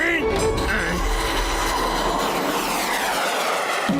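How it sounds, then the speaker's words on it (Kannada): Cartoon missiles streak toward the characters in Motu Patlu, a loud continuous rushing roar with sweeping tones that swells and then cuts off abruptly near the end. "ಮಿಸೈಲ್ಸ್ಗಳೆಲ್ಲ ನಮ್ಮ ಮೇಲೆ ಬರ್ತಾ ಇವೆ ಕಣೋ"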